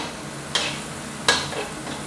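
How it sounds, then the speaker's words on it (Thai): Chili and garlic stir-fry in a pan with a soft continuous sizzle, broken by two sharp scraping strokes of a utensil close up, with no talk. "แล้วก็ตามด้วยเครื่องผัดนะครับ ก็คือพริกกับกระเทียมนะครับ อันนี้นะครับ ผัดจนหอมก่อนนะครับ"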